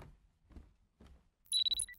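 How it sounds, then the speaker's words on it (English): Phone alarm ringing in the horror video game Parasocial, a sharp high electronic ring that starts abruptly after a few soft low footstep-like thuds, pulsing in short repeated bursts. "The alarm is ringing."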